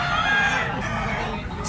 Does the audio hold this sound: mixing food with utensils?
no